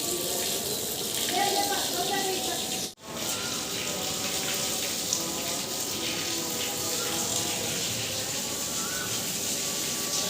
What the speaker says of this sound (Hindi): ताकि मैं प्लांट्स में पानी भी डाल दूं और जो सहन है उसको भी धो दूं